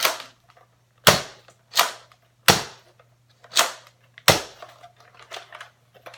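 A Nerf Mega Tri-Break toy blaster fired at a home firing range: six sharp, loud snapping pops spaced about a second apart, each with a short decay, over a faint steady hum.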